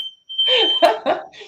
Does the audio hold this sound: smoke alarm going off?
yes